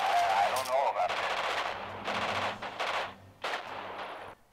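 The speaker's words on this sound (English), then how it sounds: "We're firing upon people at location 3." Machine gun fire in the World War II strategy game Radio General at the Battle of Ortona, loud rapid bursts repeating in several volleys, with a voice heard briefly near the start.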